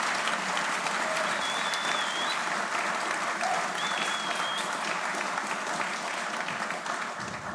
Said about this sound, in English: I would like all of you to give a small round of applause to the remaining 9 organizers